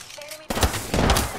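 EVA-8 shotgun blasts in the Apex Legends video game: two loud, punchy booms half a second apart with a rumbling tail, following a quieter stretch of game ambience.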